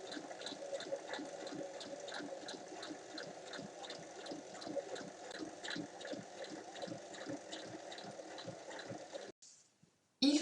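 A sewing machine stitches the shoulder and side seams of a basic cotton T-shirt at a 1 cm seam allowance, a steady rapid mechanical whirring with regular needle beats that runs for about nine seconds and then stops.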